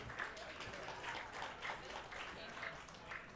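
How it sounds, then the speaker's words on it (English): Wedding guests applaud a woman named Rachel, a steady wash of many hands clapping at moderate distance with a few louder bursts, continuous through the stretch. "Another round of applause for Miss Rachel."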